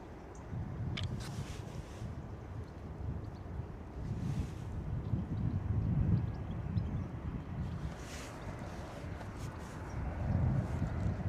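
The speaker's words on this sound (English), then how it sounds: "bit of engine noise coming from the freight apron" Aircraft engines run on the freight apron at London Stansted Airport, a steady low roar heard from a distance and mixed with wind buffeting the microphone, rising and falling slightly over several seconds.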